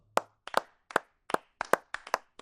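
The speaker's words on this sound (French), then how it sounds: "Tout le monde a applaudi." Sparse clapping from a few pairs of hands: about eight to ten sharp, separate claps in an uneven rhythm, close and clear against silence.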